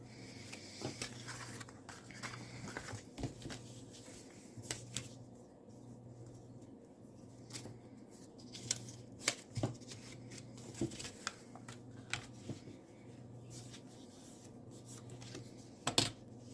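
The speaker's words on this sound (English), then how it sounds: "Now we should be fine to continue folding." A printed paper tuck box being folded and creased by hand: soft rustles, faint rubbing and sparse small taps over a low hum, quiet and close, with no talk.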